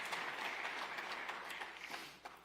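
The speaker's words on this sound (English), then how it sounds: "We're going to pause and applaud there" An audience applauds at the Albany County State of the County address, with dense, steady clapping that fills the hall evenly before tapering slightly at the end.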